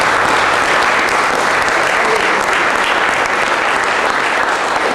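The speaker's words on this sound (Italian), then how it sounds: "Vi prego di dare anche un applauso a Paolo e a Francesca." Sustained applause from an audience at a cultural institute lecture on early nineteenth-century Neapolitan song, loud and dense with steady clapping throughout, no voices standing out.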